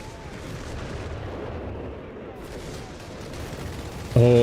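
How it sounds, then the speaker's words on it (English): An artillery barrage from a Bishop self-propelled gun in Company of Heroes 3, a steady rumbling spread of distant shell impacts and booms with a sharp louder hit at the very end, under game commentary. "the double bishop barrage coming in"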